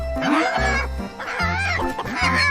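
Rooster crowing and clucking on a farm, several loud, near calls with wavering tonal harmonics, alone without talk.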